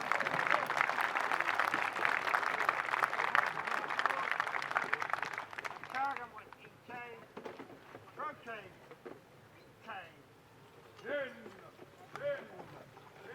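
Outdoor crowd applauding a Roman army display at Caerleon Amphitheatre in South Wales: thick clapping for about six seconds that then breaks off, after which someone speaks with some scattered background noise.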